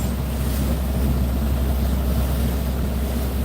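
A sand-laden cargo ship passes on a river at night, its engine a steady low rumble under broad continuous water wash and wind noise, constant in level throughout.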